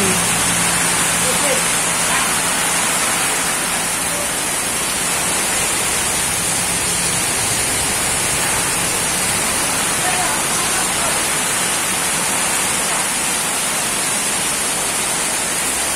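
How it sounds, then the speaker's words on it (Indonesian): Rain and wind make a dense, unbroken hiss that stays loud and even from start to finish, with no distinct drops or gusts standing out. "hujan angin."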